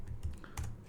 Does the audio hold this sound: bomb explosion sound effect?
no